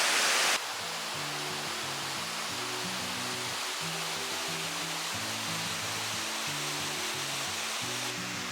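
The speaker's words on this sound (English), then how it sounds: "we made our way to the bottom of the waterfall and followed the river" A waterfall and river near Stowe in New England give off a continuous, even roar of rushing water. A low, stepping melodic tune plays faintly underneath.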